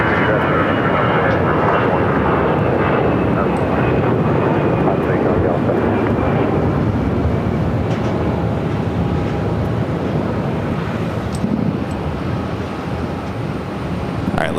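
Air Canada Airbus A330-300 jet in Star Alliance livery at Phoenix Sky Harbor airport, a loud sustained engine roar that fades slowly as it passes, with a voice talking over it.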